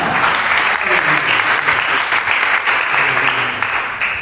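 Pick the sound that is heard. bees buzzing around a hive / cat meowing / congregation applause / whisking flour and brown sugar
congregation applause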